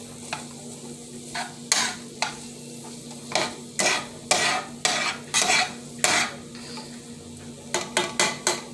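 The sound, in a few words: peppers sautéing in a pan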